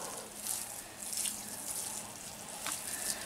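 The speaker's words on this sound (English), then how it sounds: "now we can water our bed" Water poured from a container onto a soil bed inside a hoop house, a soft continuous splashing and trickling with slight surges, close and moderately quiet.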